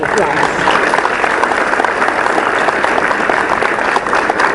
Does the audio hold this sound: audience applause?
yes